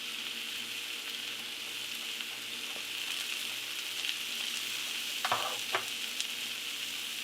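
Shrimp, sweet potato and kale sizzle steadily in a skillet, a close, even frying hiss with a few sharper pops and crackles near the end, no voices.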